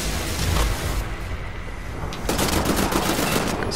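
Rapid automatic gunfire in the Wolfenstein video game, dense bursts of shots filling the stretch, with a brief lull before a second heavy volley.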